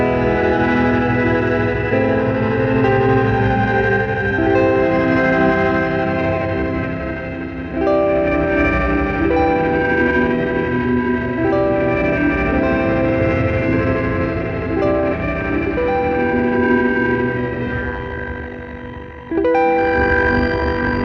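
Electric guitar rings through heavy reverb from an Old Blood Dark Star v2 pedal with bit crushing, its sustained chords smeared with gritty, lo-fi, aliasing digital crunch and wash, playing continuously without talk.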